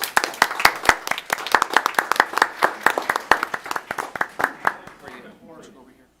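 A small audience at a school board meeting gives a round of applause, a sparse run of distinct, fairly close hand claps at an uneven rhythm that thins out and fades to quiet near the end.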